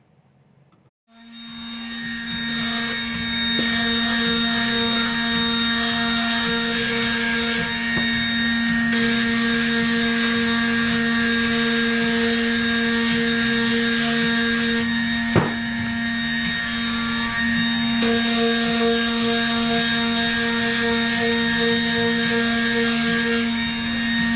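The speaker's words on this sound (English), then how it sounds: "Once the routing and the sanding is complete" A steady droning router and sander run continuously at close range on a wood block, pitch wavering slightly, with a brief sharp knock midway and no talking.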